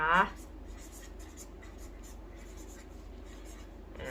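A pen scratches steadily across paper in quick, quiet strokes, up close. A short burst of voice comes at the very start and another at the end.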